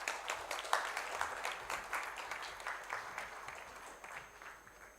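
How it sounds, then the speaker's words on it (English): Steady audience clapping at an award ceremony for the Society of Indian Law Firms' silver jubilee, a faint, distant wash of many hands that continues evenly to the end. "A round of applause, please."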